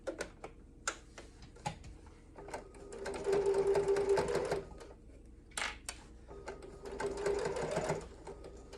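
A sewing machine runs two bursts stitching a 3/8 inch seam, each a steady, close whirring rattle lasting about a second and a half, with quiet handling clicks and rustles of fabric between the runs.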